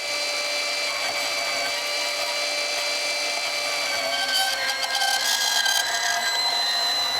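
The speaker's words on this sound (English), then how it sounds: "So I'm just going to try to bandsaw this, and hopefully we're going to do this without stripping all the teeth off." A bandsaw cuts metal stock for a custom taper gage, producing a steady, continuous grinding whine with a bright metallic edge that roughens and grows harsher toward the end, with no voices.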